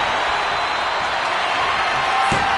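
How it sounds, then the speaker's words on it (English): A capacity arena crowd roars steadily throughout a WWE 2K25 wrestling match, a dense, continuous wash of cheering with no talk over it. "With every move you make, you hear this capacity crowd following you on that journey."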